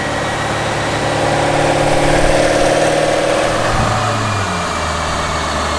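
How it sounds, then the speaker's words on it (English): A 2017 Corvette Stingray engine, apparently stock, running while warming up before a baseline run, a loud close steady rumble that swells slightly midway and then settles back to a lower idle. "We've got a 2017 Stingray here. Getting warmed up for a baseline."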